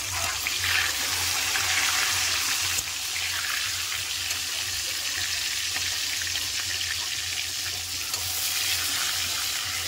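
Slices of pointed gourd fry in hot oil in a home kitchen pan, giving a steady, dense sizzle that holds close and loud for the whole stretch with no talking.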